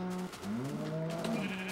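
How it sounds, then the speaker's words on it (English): Sheep in Minecraft bleat with a few wavering, tonal cries in a row, close and moderately loud, over a faint game background. "Make little sheep babies."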